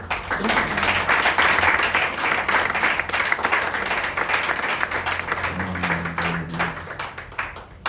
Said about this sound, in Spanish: Vamos a animar al pastor con un fuerte aplauso.